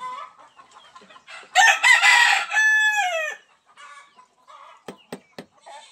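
Hens in a Filipino backyard coop cackle loudly after laying eggs, a burst of sustained squawking calls followed by scattered sharp clucks and short cries, close and with no speech over them.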